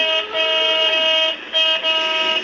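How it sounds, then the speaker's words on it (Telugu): A toy remote-control car's horn gives a loud, bright electronic honk, a sustained tone that cuts off briefly and then sounds again. "middle horn"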